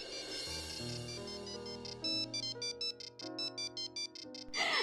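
A phone ringtone plays a bright repeating melody for an incoming call in a Marathi TV serial scene, with steady beeping tones and a low backing pulse, loud and close with no talk over it.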